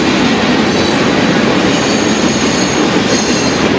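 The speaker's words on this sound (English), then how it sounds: "There's a freaking train that runs right through our. It's going through our house." A loud train rolls past very close to a campsite at a state park, a dense continuous roar of wheels and rail noise with faint squealing, steady throughout with no voices.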